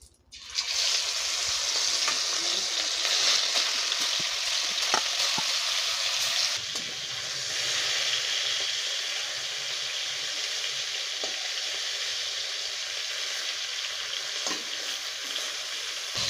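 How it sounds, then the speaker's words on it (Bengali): Houndfish pieces frying in hot oil in a kadai, a loud, steady, close sizzle that swells after the fish goes in, runs unbroken for the whole stretch with small crackles and pops, and has no voices. "তেলটা গরম হয়ে গেছে, এখন মাছটা দিয়ে দেব"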